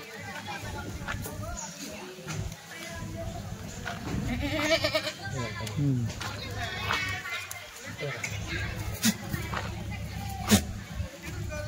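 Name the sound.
Kathiawadi goats bleating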